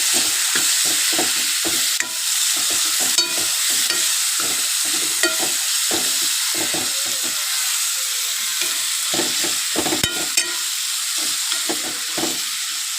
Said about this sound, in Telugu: టమాటా పీసెస్ అందులో వేసిన తర్వాత మొత్తం వీటిలో కూడా ఫ్రై చేయాలండి